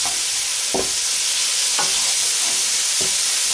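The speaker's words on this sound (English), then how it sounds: "So we stir and fry that on a high heat, keeping it moving so it doesn't stick and burn." Food stir-fries in a pan over high heat: a loud, continuous sizzle broken by sharp scrapes of the spatula about once a second as the food is kept moving.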